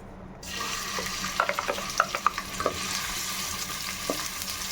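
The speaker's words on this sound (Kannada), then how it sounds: "ಮೂರಿಂದ ನಾಲ್ಕು ಚಮಚ ಆಯಿಲ್ ಹಾಕೊಂಡಿದ್ದೀನಿ ಈರುಳ್ಳಿ ಸೇರಿಸ್ಕೊತಾ ಇದ್ದೀನಿ" Onions fry in three to four spoons of oil in a pan for a chicken gravy: a steady, close sizzle with scattered scraping taps from stirring, and no speech.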